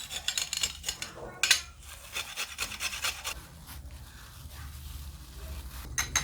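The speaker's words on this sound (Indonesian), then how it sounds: "Sekarang kita akan parut kunyit ini" Fresh turmeric root rubbed against a grater, quick rasping strokes in bursts that slow toward the end, close and fairly quiet, with no talking.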